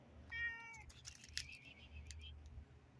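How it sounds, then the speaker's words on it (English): A friendly cat gives a couple of short, clear meows close by, over a quiet, low background rumble, with no talking. "Oh, look at the kitty. Very friendly kitty."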